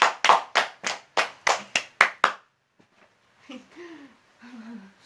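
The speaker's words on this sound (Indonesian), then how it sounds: "tepuk tangan untuk Putri dan yang lain" A small class of students claps their hands in a classroom, about eight sharp, loud claps in quick succession, then a teacher's voice speaks briefly.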